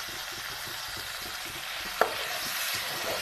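Masala spice paste fries in oil as it is cooked for a dish with potatoes and kidney beans, making a constant soft sizzle and bubbling with one brief sharp knock partway through, and no talking.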